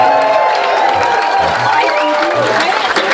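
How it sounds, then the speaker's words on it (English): A live concert audience at the Jazz Cafe in London claps and cheers, dense applause with whoops, while someone talks over the crowd. "Give yourselves a round of applause."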